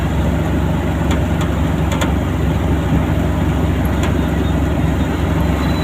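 A vehicle engine runs steadily and loud, a low continuous rumble throughout with a few faint clicks above it; no talking.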